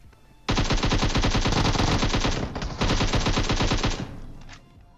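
Automatic gunfire in PUBG Mobile fires in two long, loud, rapid bursts, with a short break between them, before trailing off into quiet.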